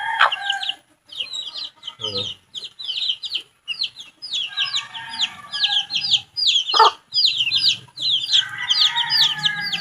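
Native chickens cluck and chatter in repeated bursts close by, with a rooster crowing briefly in the mix; no one speaks.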